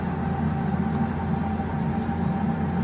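A new 4WD tractor engine runs steadily at idle, a loud, constant low diesel drone with no talk.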